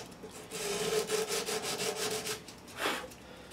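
Emery boards rubbed across the wood of a Yamaha AC5R acoustic guitar, working through different grits; quick, rhythmic back-and-forth scratching strokes, close and moderately soft, with no talk.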